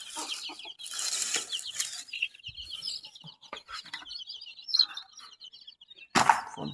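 Chickens in their coop cluck in short, irregular bursts with scattered high chirps and a brief flutter of wings, close and fairly clear with no talk.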